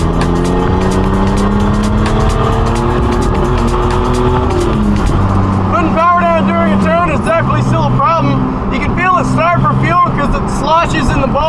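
A carbureted car with a lifted stance and a drop kit revs hard under full throttle, its engine note climbing through several loud rising sweeps before tires briefly squeal, with a voice shouting over the roar.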